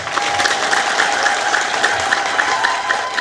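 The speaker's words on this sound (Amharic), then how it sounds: "አዎ ይህን ነገር የምትሉ አጨብጭቡ።" Church congregation applauding in unison, a dense steady patter of many hands clapping close by with a faint tone running underneath.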